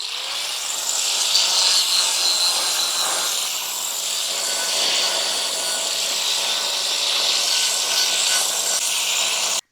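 A polishing blade grinds the edge of a marble or granite step in a continuous, high-pitched abrasive whine that holds steady at close range for nearly ten seconds before it cuts off abruptly.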